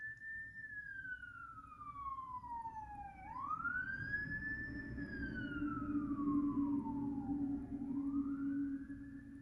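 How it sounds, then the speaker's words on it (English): Emergency vehicle siren wails in long rising and falling sweeps, fairly distant and faint over steady low traffic rumble, continuous throughout with no talking. "Sirens."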